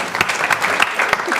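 Brief, lively clapping from a studio audience on a game show, a dense burst of hands with a voice faintly audible underneath.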